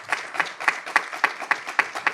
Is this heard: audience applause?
yes